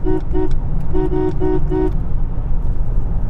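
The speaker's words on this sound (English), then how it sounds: "Listen to this horn." Horn of a 1990 Cadillac Seville sounding in several short toots, two quick blasts then a cluster of four, loud and close over a low idling engine rumble that continues after the honks stop.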